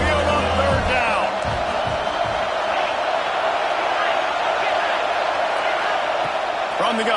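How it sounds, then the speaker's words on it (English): Alabama football crowd roaring at Saban Field during a third-down play, a dense, loud, continuous wash of stadium noise with whoops and cheers, a commentator talking over it. "The tide crowd, rolling noise, down onto Saban Field on third down."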